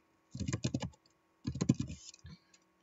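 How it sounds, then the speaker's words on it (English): A name is typed on a computer keyboard in two quick bursts of close, crisp key clicks separated by a short pause, followed by a couple of stray taps in an otherwise quiet room. "typing in my name"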